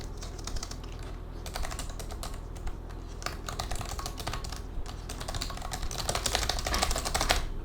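Rapid continuous typing on the mechanical keyboard of an Alienware X17 R1 laptop, a dense stream of crisp close key clicks with irregular rhythm and no talking.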